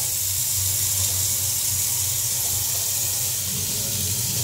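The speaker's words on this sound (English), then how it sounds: "Let's get some warm water in here." Warm tap water runs steadily from a faucet into a Scott GSR or PMK-4 gas mask, a continuous close hiss and rush of flowing water that does not let up, with no talking over it.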